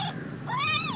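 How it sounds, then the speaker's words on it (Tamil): A newborn kitten, only about an hour old, gives a thin high meow that rises and falls, close by, over a soft background hum with a brief faint earlier squeak. "எங்கள் வீட்டில் பூனைக்குட்டி"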